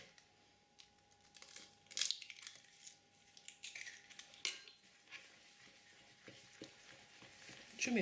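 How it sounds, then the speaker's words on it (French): Egg yolks and whole eggs whisked together in a bowl for gluten-free, dairy-free cannelés, giving irregular light clicks and taps of the whisk against the bowl, moderately close with uneven rhythm. "Je mélange."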